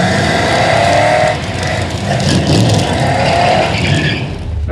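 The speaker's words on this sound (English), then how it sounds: "Looks like this second race is gonna be against this white Mustang here." A Tesla in ludicrous mode and a white Mustang launch side by side at a drag strip: loud, continuous, close engine and tire roar for several seconds with a brief dip partway through.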